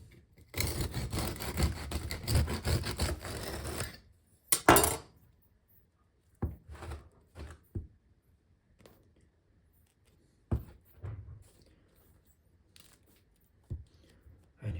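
A knife saws through a crusty, cooled rye sourdough loaf, producing a loud, rough scraping burst for several seconds, then a sharp crack followed by scattered soft knocks and rustles of handling the bread.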